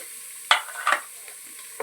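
Chopped onion and green chili drop into hot oil in a rice cooker, giving two short bursts of sizzle and scraping stirs followed by a quiet, low frying hiss, with no voices.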